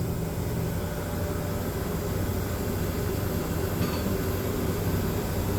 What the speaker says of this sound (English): We hear the cooling unit come on